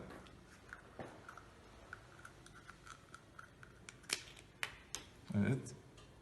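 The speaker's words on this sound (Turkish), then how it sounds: "makasla masa tenisi topumuzu kesiyoruz öncelikle" Scissors snip through a hollow plastic table tennis ball, giving a few sharp, close cracks and a short crunching burst near the end over a quiet room background.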